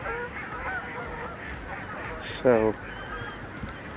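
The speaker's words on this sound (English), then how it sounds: "there's a few ducks out there" Ducks out on open water give a brief, loud honking call burst near the middle, heard over steady outdoor background noise; someone speaks a single word.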